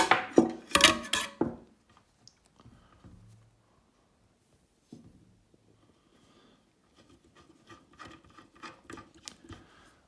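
Metal clicks and scrapes of a spanner loosening and removing the outside lock nut from the axle of a Spinergy Rev X bicycle wheel, a sharp clatter at first, then quieter handling, with light tapping near the end.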